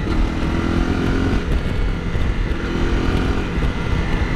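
A 2017 Honda CRF250L Rally dirt bike engine roars steadily at full throttle throughout, loud and close, with a constant buzzing drone and no pauses.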